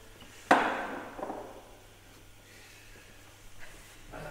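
A corking machine drives a cork into a cava bottle with a piston, giving one sharp, loud pneumatic thump and hiss that fades over about a second, followed by faint mechanical clicks.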